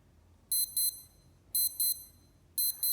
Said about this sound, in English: long press the C key 2 seconds to test the